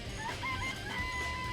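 Several chickens cluck and call inside a coop, a close, continuous run of warbling, rising and falling notes with no talking over them.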